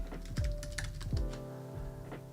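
Computer keyboard typing clicks quickly and irregularly, a close, fairly quiet patter of keystrokes with no talking.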